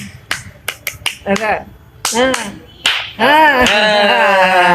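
A handful of sharp, uneven hand claps or snaps land off the beat during a vocal coaching session, followed by a person speaking and then sustained singing.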